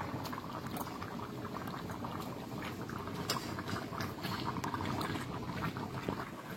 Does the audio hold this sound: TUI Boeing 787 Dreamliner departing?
no